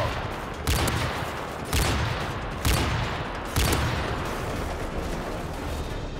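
Heavy gunfire in Call of Duty Modern Warfare 3, with a sniper rifle firing at a helicopter: four loud booming shots spaced about a second apart over a continuous roar of battle noise, with no voices.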